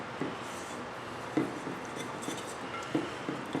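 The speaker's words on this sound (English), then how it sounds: "So we're going to give this a good whisk, get this all mixed up together" A whisk knocks and scrapes in a bowl of marinade with thyme, rosemary and red pepper flakes, several distinct clinks repeating every second or so over a soft rubbing sound.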